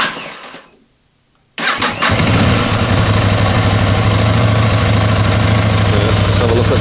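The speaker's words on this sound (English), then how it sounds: "it might crank and cut out, but we'll see" An Aprilia RS660 motorcycle engine cranks briefly after a short quiet gap, then catches and settles into a steady, loud, close idle that runs on without stopping.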